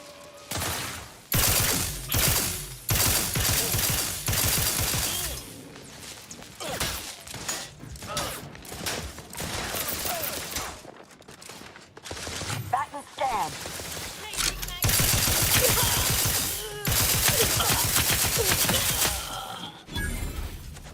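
Rapid bursts of video game gunfire crackle through most of the stretch, loud and dense with brief gaps, while voices talk over the shooting at times.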